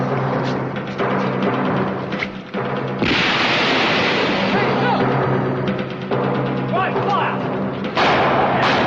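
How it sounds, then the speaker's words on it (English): A grenade goes off during a Dalek battle, a heavy thudding blast that swells into a sustained roar of noise amid steady background rumble and action sounds. "Grenade!"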